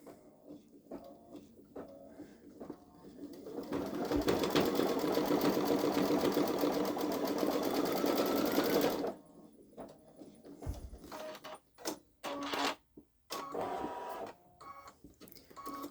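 A Babylock Solaris Vision embroidery machine stitches a design, its steady rapid mechanical whir running loud and continuous for about five seconds before stopping, followed by quieter handling noises.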